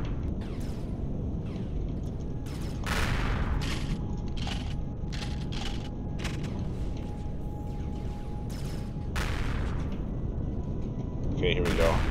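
Ship-mounted weapons firing on an enemy ship in the space game Empyrion (Reforged Eden), a run of heavy booming shots with gaps between bursts, loud and mechanical, talk now and then over the fire.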